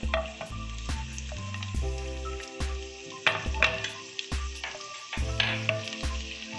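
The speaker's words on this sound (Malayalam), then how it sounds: "ഇതിലേക്ക് നമുക്ക് വെളുത്തുള്ളി അരിഞ്ഞ് വെച്ചത് ചേർത്ത് കൊടുക്കാം" Chopped garlic frying in hot oil for egg 65, a steady close sizzle broken by repeated loud stirring scrapes and pulses with no talking.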